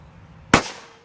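A single sharp firework bang goes off at middle distance from a home 2018 fireworks stash, then rings out in a short fading echo.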